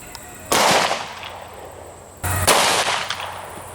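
Two loud, sharp 10mm gunshots fired a couple of seconds apart, Underwood Ammo 180 grain full metal jacket rounds shot into a stack of pine boards outdoors, each with a short ringing decay.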